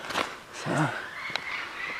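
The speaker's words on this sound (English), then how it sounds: "So right away there are a bunch of birds in here." Birds in a zoo aviary in Ecuador give a few scattered honking and squawking calls at moderate distance, mixed with a little nearby talking.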